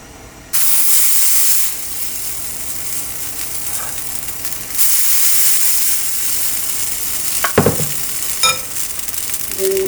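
Chitoi pitha batter poured into a hot pan on medium-high heat bursts into a loud, steady sizzle and hiss, swelling again midway, with a few faint clinks near the end.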